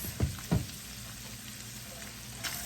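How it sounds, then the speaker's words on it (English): Sausage and flour cooking in a pan for a breakfast pizza, a steady close sizzle with two brief stirring scrapes near the start and another soft one near the end. "mix that flour in, kind of make the sausage into a paste, and then cook that flour out of there"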